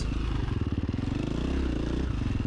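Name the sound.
motorcycle gear shift into third while riding cross-country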